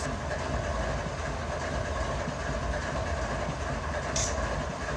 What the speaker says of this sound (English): Here comes the UP train